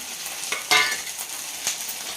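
Ridge gourd curry with tomatoes, turmeric and salt stirred in a pan, with a soft continuous sizzle and a few sharp scraping strokes of the spoon, close up and without voices.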